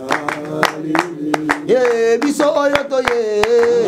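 An audience claps in a steady rhythm along with a sung church song at a Sunday gathering, the sharp claps sounding beneath the voice and music.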